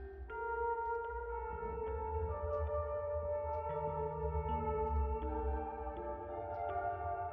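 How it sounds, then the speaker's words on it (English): A slow piano melody from the game Fatal Frame: Mask of the Lunar Eclipse, with clear single notes stepping through a tune over a low, steady ambient hum and no talking. "I might remember more if I play it on the piano."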